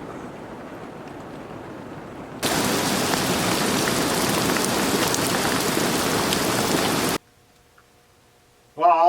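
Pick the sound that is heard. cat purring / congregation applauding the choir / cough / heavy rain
heavy rain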